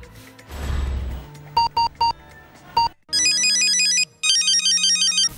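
Ringback music heard while calling the K-Electric complaint office: a short electronic ringtone melody with bright repeated beeping notes, playing loud and alone after a brief burst of noise.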